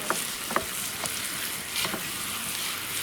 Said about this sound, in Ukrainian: Так що ми смажемо.